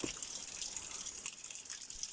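A small trickle of water runs into a water tank, a faint, steady hiss with light splashing and no voices.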